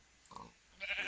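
A Minecraft sheep gives two short bleats in a sheep pen, the second brighter and slightly louder, both quiet against near silence.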